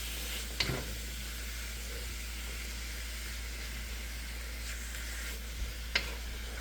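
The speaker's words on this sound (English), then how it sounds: "Brown that meat." Meat browning in a hot pan for Peruvian lomo saltado, with a whole garlic clove added: a steady, quiet sizzle running throughout, broken by a couple of brief clinks or scrapes.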